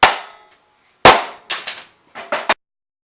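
A Hilti DX-500 low-velocity powder-actuated tool fires with a sharp bang, then a few more quick metallic clacks and snaps follow in a short cluster, close and loud with silence between them.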